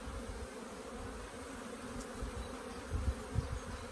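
Honeybees buzzing steadily around an open beehive during an inspection, a close, continuous drone with a few louder passes near the microphone.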